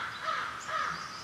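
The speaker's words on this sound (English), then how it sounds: "Shut up, crows." Crows caw in a few hoarse, drawn-out calls that rise and fall, moderately loud and fairly close, with no speech over them.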